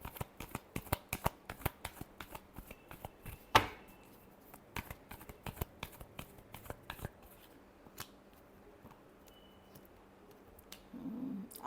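Tarot cards are shuffled by hand in a quiet room, a rapid series of crisp flicks and riffles with a louder slap partway through, followed by sparser taps and slides, close and clear with no talk.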